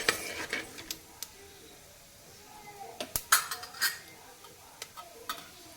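Whole spices (cloves, bay leaves and black pepper) stirred with cumin in a pan for pulao, with sparse scraping clinks of a spoon against metal over a faint sizzle, close and fairly quiet.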